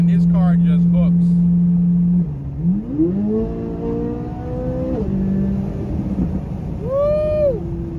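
Sports car, a 2023 C8 Corvette Z06 or 2020 Shelby GT500, idles loudly, then launches hard, its engine note climbing steeply through the gears in loud, close rising sweeps, with a brief shout at the start and another high rev near the end.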